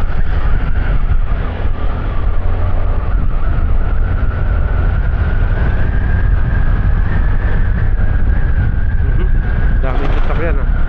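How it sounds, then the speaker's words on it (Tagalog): Dense, continuous road traffic with many vehicles passing, a loud unbroken roar of engines and tires with a brief higher squeal near the end. "Daming sasakyan ah."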